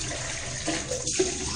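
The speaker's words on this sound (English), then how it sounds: "Now I will rinse my face with cold water" Cold tap water runs steadily and splashes nearby as a face is rinsed after a shave, with a few small irregular splashes in the flowing stream and no talking.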